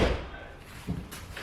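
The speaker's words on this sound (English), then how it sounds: "Listen to how these doors close now." Car doors on a turbocharged Ford Falcon shut with two solid thuds, the first at the start and a second close and loud just under a second later, with no talk.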